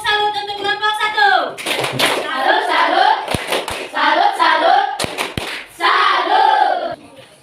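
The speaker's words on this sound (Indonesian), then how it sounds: "tepuk salut untuk kelompok 1" A school classroom of students doing a rhythmic salute clap, with sharp sets of hand claps and thumps between stretches of children chanting and shouting together, loud and close.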